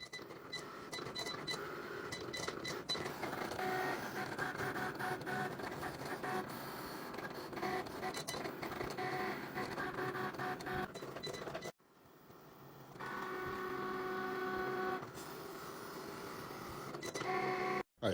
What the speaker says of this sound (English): load it into the Cricut. Press next and click the C button to go.